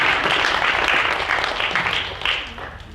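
Audience applause at an induction ceremony: steady, dense clapping from a crowd, loud and sustained, easing off toward the end.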